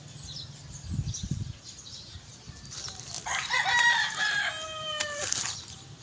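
A sweater gamefowl rooster crows loudly and close by, its drawn-out call following clucks and a burst of wing flapping at a small rooster farm.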